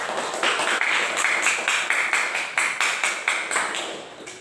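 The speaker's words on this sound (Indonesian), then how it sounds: "Kita beri aplaus dulu untuk kelompok 2." A classroom group clapping for their classmates, brisk, close hand claps in a steady rhythm for several seconds before fading out.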